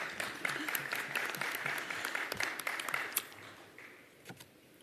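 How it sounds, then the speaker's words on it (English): Audience applause at a church clergy-laity congress plenary session, a dense crackle of many hands clapping steadily before thinning out near the end, with a faint voice underneath. "I hear some clapping, thank you."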